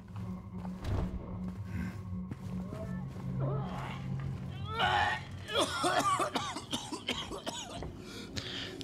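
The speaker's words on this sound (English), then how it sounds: "We hear coughing." Several rough coughs and throat clearing in Silent Hill 2 Remake against a steady low background hum, with scattered voices and game-like sounds around them.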